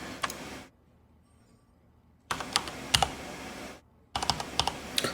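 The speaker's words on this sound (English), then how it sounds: "me hitting the keys so loud" Loud, close clacking of computer keyboard keys in quick bursts, two short flurries of typing separated by near-silent pauses, with a third burst starting at the end.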